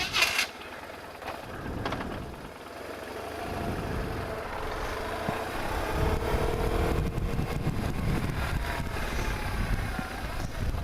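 A 2002 BMW R1150RT motorcycle engine runs steadily, a low continuous rumble with road and wind noise that builds slightly as the ride goes on.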